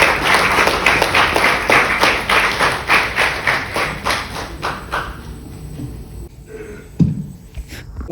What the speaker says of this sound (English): With a huge round of applause, let's welcome Mahesh Kendurkar to share his experiences.